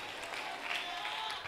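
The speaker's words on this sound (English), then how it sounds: "Somebody clap your hands and praise the name of the Lord" Congregation clapping their hands during a church service, a steady dense wash of many hands clapping at once, fairly loud and continuous throughout.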